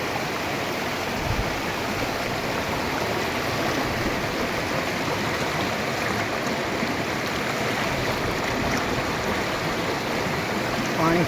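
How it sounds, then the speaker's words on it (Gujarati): Vatrak river water flowing at Mahemdavad, a steady broadband rush that holds evenly for the whole stretch with no pauses, close and fairly loud. "પાણી ફૂલ ચાલુ છે."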